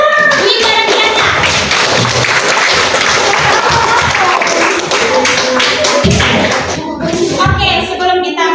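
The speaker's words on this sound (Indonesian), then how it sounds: "Tepuk tangan untuk Wida dan Diana." A fifth-grade elementary classroom claps for two classmates, a loud, continuous burst of many small hands clapping close by, with children's voices mixed in.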